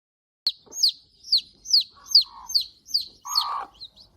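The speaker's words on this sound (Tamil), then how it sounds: "கோழி." A domestic hen calls in a run of about eight short, sharp, high-pitched chirps at a steady rhythm, with a few lower clucking notes mixed in near the end, close and clear with no talking.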